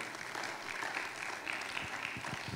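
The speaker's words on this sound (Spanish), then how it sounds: "Le damos un aplauso al que vive para siempre." A church congregation applauds during a Spanish-language sermon, a steady, fairly faint wash of clapping with a few low thumps near the end.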